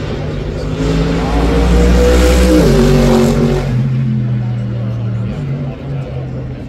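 Racing cars with V8 and V10 engines roar and rev loudly at the Goodwood Festival of Speed, the pitch rising and falling before easing back to a lower idle, with a voice underneath.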